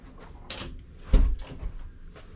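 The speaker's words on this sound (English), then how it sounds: "Close the door." A door in a Disney Fantasy cruise ship balcony cabin swings shut with a single muffled thud and a brief rattle of the latch, close by in a quiet room.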